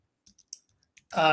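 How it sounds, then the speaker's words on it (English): Typing on a computer keyboard, a handful of sparse, light key clicks spaced irregularly in a quiet room before a voice begins speaking. "I am typing as we speak."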